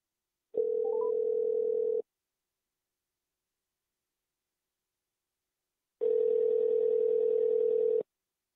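A telephone line gives two steady electronic tones while a call is placed back to a mother, each lasting about a second and a half and separated by several seconds of silence, clear and unaccompanied.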